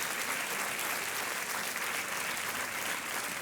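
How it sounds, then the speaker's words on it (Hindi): A studio audience on the KBC quiz show welcomes a contestant with a steady wash of applause, dense and even from start to finish without a break. "मैं जनता से आग्रह करूंगा कि वो तालियों के साथ इनका स्वागत करें"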